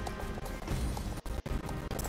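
Horse hooves pound in a steady running gallop in the video game Star Stable, a dense rhythmic clatter with a couple of brief dropouts, no speech over it.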